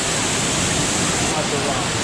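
Dry Falls waterfall in Highlands, North Carolina, a loud, steady roar of rushing water close by, unbroken throughout the short stretch.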